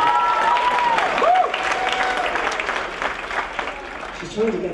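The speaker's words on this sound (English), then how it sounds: "So give her a huge round of applause." A concert audience aboard the cruise ship Celebrity Constellation applauds warmly for a singer, clapping steady and fairly close while someone talks over it and a few whistles rise above.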